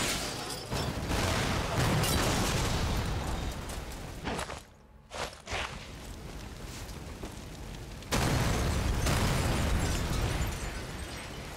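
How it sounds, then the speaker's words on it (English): Tank explosions in the World War II shooter Sniper Elite 4: loud, broad booming bursts rolling through most of the stretch, a brief near-silent gap midway, then another heavy blast and continued rumble. "Ready for exploding tanks?"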